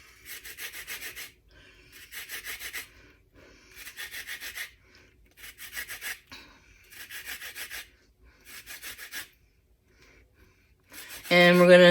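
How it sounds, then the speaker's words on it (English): An orange is rubbed against a zester for its peel, giving about seven short rasping bursts in an even rhythm separated by brief pauses, close and fairly quiet, with a louder different noise right at the end. "I have my zester that we're going to need"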